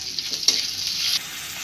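Chopped onion and sliced green chili sizzle steadily in a hot pan, with a spatula stirring through them in a brief scrape; the hiss stays loud and close for about a second, then drops off, and no one speaks.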